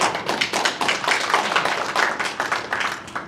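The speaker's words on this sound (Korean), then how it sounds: "우리 후보님께 큰 박수 드리도록 하겠습니다" A crowd at a political group's founding ceremony in Daegu claps for the candidate, a brisk, close burst of many hands with distinct, uneven slaps sustained throughout.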